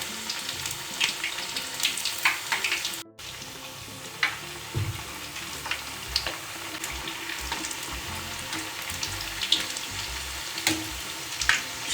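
Maddur vadas fry in hot oil over a medium flame, a continuous crackling sizzle with scattered pops and bubbling. One brief dropout interrupts the sound, and no one speaks.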